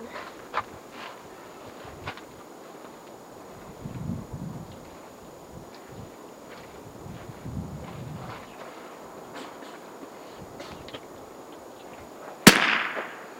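A rifle fires a single sharp shot at an outdoor shooting range in Arizona, loud and close near the end, after a stretch of quiet outdoor rustling, wind and faint footsteps.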